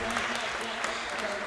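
Applause from the bench at a National Squash League legends match, with steady clapping heard under an ongoing commentator's voice in an indoor arena.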